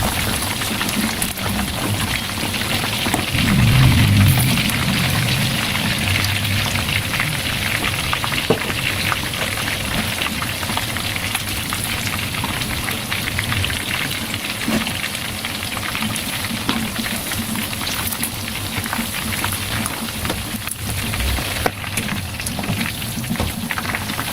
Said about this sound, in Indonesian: Oke, lanjut goreng sampai matang ya Mams.